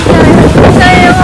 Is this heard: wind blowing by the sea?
yes